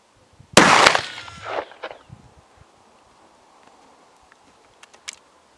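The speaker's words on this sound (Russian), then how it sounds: "сделаем три пробных выстрела пули Азот на дистанцию 50 метров из нижнего ствола ружья ТОС-34" A single Azot slug fired from the lower barrel of a TOZ-34 shotgun at an outdoor range, one sharp loud blast with a rolling echo that fades over about a second, followed by faint scattered sounds.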